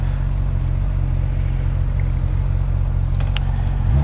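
A Honda 1200 motorcycle engine idling nearby, a loud, steady low rumble that stays constant, with a slight rise in pitch at the very end.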